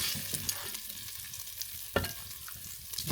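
Meat browning in a pan gives off a steady, quiet sizzle and hiss, broken by a few soft clicks and stirring taps, up close with no voices.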